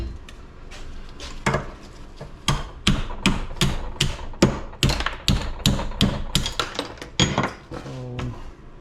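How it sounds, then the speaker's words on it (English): Ball peen hammer striking salvaged microwave oven parts, a fast run of sharp metallic taps and clanks, close and loud, with irregular rhythm and a few ringing hits toward the end. "I think I need my ball peen."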